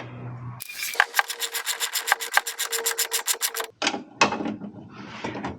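Screws being tightened by hand into a Kia Sedona headlight give a close, steady run of rapid rasping scrapes that lasts about three seconds, followed by a few louder, rougher scuffs.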